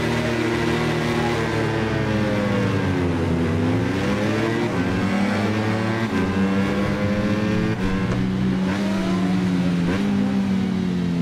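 A Honda motorcycle in the racing game Ride 5 on the Okayama circuit with thick dual-pipe exhausts, its deep engine droning loud and steady while the pitch sweeps down and up through revs and gear changes.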